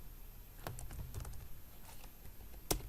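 Typing code on a computer keyboard, a quiet, irregular run of distinct key clicks with one sharper stroke near the end, no voices.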